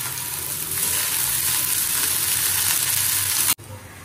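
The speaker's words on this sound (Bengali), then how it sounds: "করলাটা চাপিয়ে দিই" Bitter gourd frying in a hot pan gives a steady, close hiss and sizzle that cuts off abruptly near the end.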